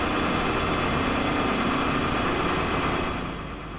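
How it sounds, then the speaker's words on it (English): A train in the Train Simulator 2018 game brakes hard, giving a loud, steady mechanical roar and hiss of engine and brakes that holds evenly, then eases off slightly near the end, with no talking. "I'm gonna have to really brake strong now"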